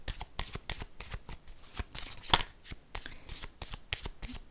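Tarot cards being shuffled by hand and then drawn: a soft, close, continuous riffling and flapping of cards that is fairly quiet, with no talk over it.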